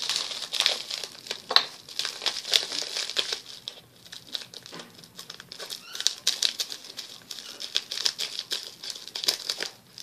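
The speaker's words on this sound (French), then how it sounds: "Alors maintenant, on va ouvrir la deuxième enveloppe." Crinkling and tearing of a paper mail envelope being opened by hand, close and continuous with rustling bursts throughout.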